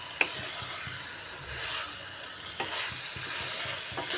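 Pointed gourd and paneer sautéing in a kadai, a soft continuous sizzle broken by a few sharp scrapes and knocks of a spatula stirring the pan, close and alone with no talk.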